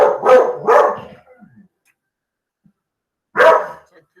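A small dog barks close by, two quick barks, then a pause with faint shuffling and a single later bark.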